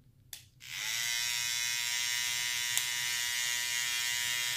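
Babyliss FX Boost hair clippers switching on after a brief click, then a steady high-pitched motor whine humming evenly and close for several seconds, with no talking.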